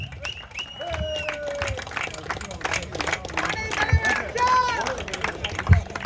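Audience applause at a street cricket league presentation, the Chetpet Premier League on Appaswamy Street, comes in scattered, moderate bursts under ongoing talking and crowd babble.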